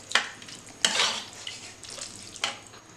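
A bottle gourd and yogurt curry is stirred in a pot, giving three distinct scraping, splashy strokes of a spoon against a quiet background; no talking.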